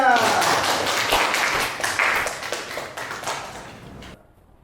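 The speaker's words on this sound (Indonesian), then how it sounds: "beri tepuk tangan semuanya" Classroom applause from students during a teaching session, a burst of scattered, uneven hand claps with a voice over it, gradually thinning and stopping abruptly near the end.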